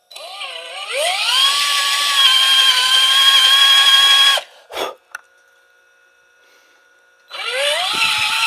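A power drill whines up to speed and runs steadily for a few seconds drilling dowel holes in a workbench, stops with a clunk, then spins up again after a quiet pause.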